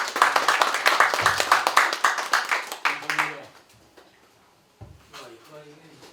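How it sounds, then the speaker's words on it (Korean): Audience clapping at a Korean commemorative event as a harmonica performer is welcomed, a dense burst of hand claps for about three seconds that fades out, followed by brief speech. "박수로 환영해 주십시오"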